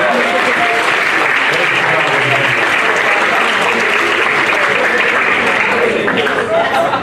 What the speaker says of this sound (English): I want us all to take a minute to give a round of applause to our staff here at the hotel.